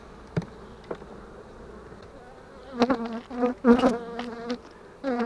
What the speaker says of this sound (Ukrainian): Бджоли не привикли до людей трошки злі